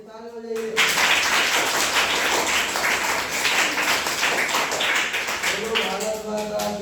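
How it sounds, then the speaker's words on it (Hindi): A class of students breaks into loud, dense clapping for about five seconds, rising abruptly and fading out, with a teacher's voice before and after. "ये ताली हो जाइए।"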